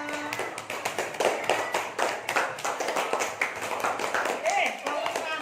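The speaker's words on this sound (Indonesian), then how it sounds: "Tepuk tangan untuk kelompok 2" Classroom applause for a group of primary school students, a steady run of hand claps from many children, fairly close and continuous, with voices chattering over it.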